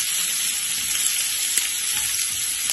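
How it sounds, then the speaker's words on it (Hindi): Onions sizzle steadily in hot oil with hing and cumin while chana masala is being made, a dense continuous frying hiss with a couple of faint clicks, close up and without any talk. "ये प्याज भून रही है"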